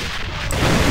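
A grenade detonates in the online shooter AVA, a single muffled blast that swells from a low rumble into a sustained roar over the second's close, with no voices over it.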